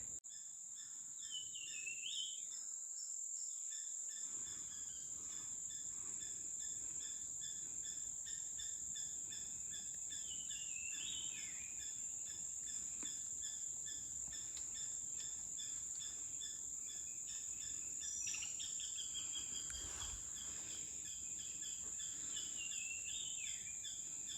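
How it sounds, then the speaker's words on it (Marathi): Steady, shrill cricket chirring fills the forest throughout, with small birds calling intermittently over it; no voices. Adrai jungle, Maharashtra. "इथं बारीक बारीक पक्ष्यांचा किड्यांचा किरकिड्यांचा आवाज तुम्ही घ्याल ना"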